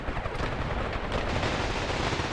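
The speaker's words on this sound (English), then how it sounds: "Damn the artillery." Artillery fire in the wargame Graviteam Tactics Mius Front, a dense continuous roar of overlapping booms and rumbling blasts, loud and unbroken throughout.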